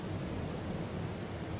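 Steady rain pours in Farming Simulator 22 on PS5, a dense, even hiss with a low rumble that stays constant and fairly close throughout, with no voices.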